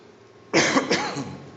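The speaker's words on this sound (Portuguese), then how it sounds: "Desculpem eu tossir de vez em quando" A single short cough during a sermon, close and fairly loud, followed by a brief rough throat-clearing sound, then quiet.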